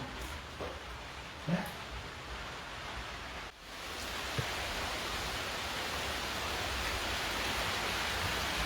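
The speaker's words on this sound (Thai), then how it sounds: "ฝนตกหนักด้วยครับ ทุกคน" Heavy rain pours steadily outside a reputedly haunted Thai house at night, a dense hiss that drops briefly and then builds back louder, with a few faint thumps and a dog barking far off.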